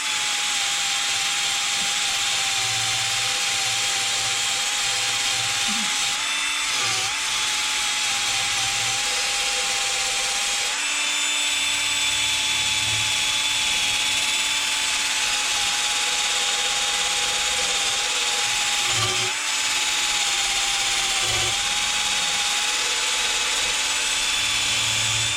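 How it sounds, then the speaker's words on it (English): A cordless drill bores into a mower recoil part clamped in a vise, a continuous high motor whine with a steady pitch that dips briefly under load and a grinding, ratcheting rattle underneath, running almost without pause. "I'll just try the cordless drill"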